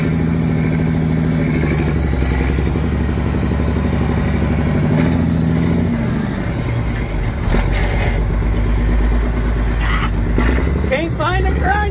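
Gears grinding on a manual gearbox as the shifter is forced between gears, a harsh mechanical clatter over a steady engine drone that builds toward the end, with talk over it.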